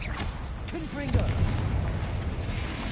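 A Confringo blasting spell in Hogwarts Legacy goes off as a booming burst partway through, ringing briefly amid magical swishes and game noise, with a voice faintly present.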